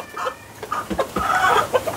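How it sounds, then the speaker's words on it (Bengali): A rooster and hens in a zoo enclosure cluck in short, close, fairly loud bursts, with no voices heard. "মোরগটা এইটা, আর হচ্ছে মুরগি দুইটা হচ্ছে এই তো আমার পিছনে এখানে আছে।"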